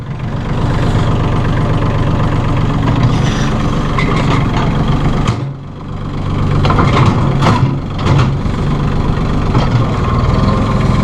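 A 2011 Massey Ferguson 1635 hydrostatic compact tractor engine idles with a steady, loud low rumble throughout, dipping briefly around the middle before resuming its even drone close by.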